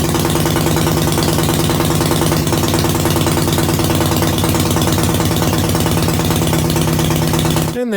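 A Dnepr motorcycle engine idles steadily after starting, warmed up, with a loud, even, rapid mechanical chug that holds throughout before cutting out abruptly at the end.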